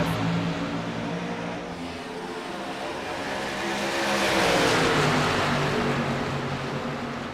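A pack of stock cars roars off at the green flag start of an Xfinity-series sim race at Kansas, a dense, sustained engine drone that swells and peaks midway with layered revving tones, no voices.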